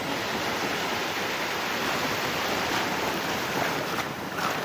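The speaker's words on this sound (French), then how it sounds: "je me prends des vagues" Ocean waves break over a swimmer on the coast near Broome, a loud, steady wash of broadband surf noise filling the clip, close and continuous without talk.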